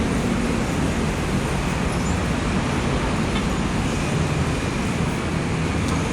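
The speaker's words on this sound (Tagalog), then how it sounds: "Traffic." Steady, dense road traffic roars along North EDSA in Manila near the MRT extension construction, a continuous broadband wash of passing cars and buses with no pauses, fairly loud throughout.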